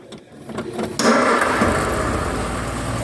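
A 1972 Ford Cortina 1600 XL is started: a brief cranking whirr, then the engine catches with a loud burst and settles into a steady, close rough idle.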